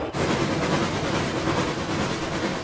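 Runaway train rolling along rails, a steady loud rumble with rapid rhythmic clatter, continuous and close throughout.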